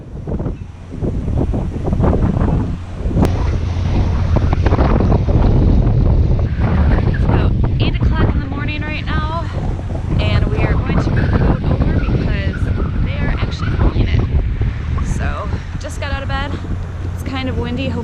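Wind buffets a sailing boat and rumbles across the microphone in steady gusts, with water noise beneath and people talking throughout.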